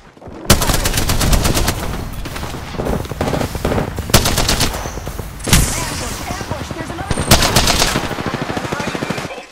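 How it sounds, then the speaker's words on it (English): Rapid automatic gunfire in the Apex Legends video game rattles in loud, dense bursts with a few sharper single shots, close and continuous, while a player's voice comes through under the shooting. "They're shooting at me."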